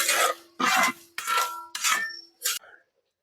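Kashmiri chili is stirred in a pan in five short, close scraping strokes, each a gritty rasp of a utensil dragged across the pan, separated by brief pauses and fading out at the end.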